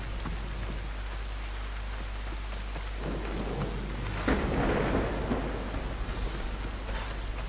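Rain pours steadily in the Assassin's Creed Odyssey video game, a dense continuous hiss with a low rumble of thunder swelling midway, loud and alone without talk.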